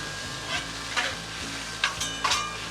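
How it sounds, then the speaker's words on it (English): Fried rice being stirred on a flat griddle with a soft steady sizzle, a few scraping spatula strokes standing out over the frying hiss, close and alone. "Stir it around a little bit."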